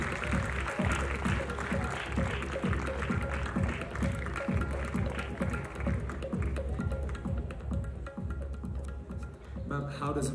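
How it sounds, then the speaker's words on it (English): A crowd at the college festival Umang 2016 claps and cheers amid loud, thumping rhythmic music, with voices in the mix and the applause partly masked by the beat. "Everybody in the house, let's have a huge round of applause."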